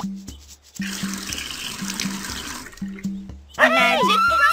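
Water pours in a steady splashing stream in the Dora's Magical Garden video game, running for several seconds between short electronic tones and ending with a bright chiming flourish.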